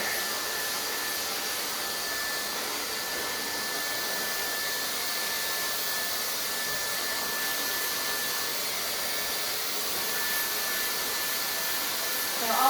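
A hair dryer blows steadily on hair during a pre-blow-dry, a continuous, even airy roar that holds at a constant level throughout with no talk.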